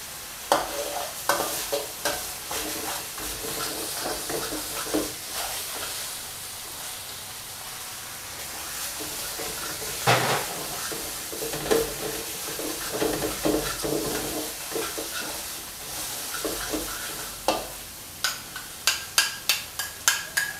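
Southern Thai curry paste with sliced fingerroot stir-fried in a wok, steady sizzling under repeated scraping stirs that turn into a quick rhythmic series of spatula strokes near the end.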